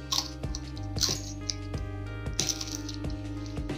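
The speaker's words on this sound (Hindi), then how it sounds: "इसमें अब ये 3 जो हरी मिर्ची ली है हमने धोकर ये काट के डाल देंगे इस तरीके से" Green chillies being chopped and tossed into a pan while a no-onion, no-garlic paneer curry cooks, heard as a steady run of crisp knife taps and small plops over a constant low hum.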